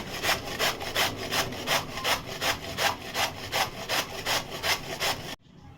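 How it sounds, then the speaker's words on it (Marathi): Cabbage being grated by hand on a kitchen grater, a steady run of loud, rhythmic rasping strokes, about two per second, close up and without talk, stopping abruptly near the end. "हा कोबी आपण किसणीवर किसून घेऊया"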